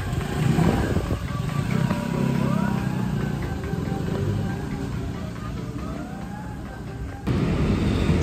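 Scooters riding through a busy shopping street in Taiwan: a continuous wash of small engines revving and passing at close range, with rising and falling whines over broad traffic rumble and a sudden louder burst near the end.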